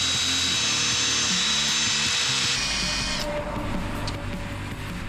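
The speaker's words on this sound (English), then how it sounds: "Next, we're gonna try the old drill driver and the rubber bushing trick" A power drill driver whines continuously and close by while working out a rubber bushing during a leaf spring rebuild, its motor pitch shifting partway through as it works against resistance.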